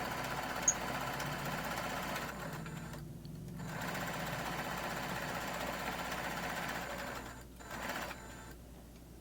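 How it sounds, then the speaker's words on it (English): A sewing machine stitches a straight seam along a throw pillow, its motor running in a steady close whirring rattle with two brief pauses. "we're just going to sew all the way down till we get to the end"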